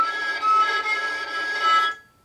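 High, thin violin artificial harmonic played with the fourth finger placed too high, sounding sharp and sustained for about two seconds with slight wavering, then cutting off; no voices.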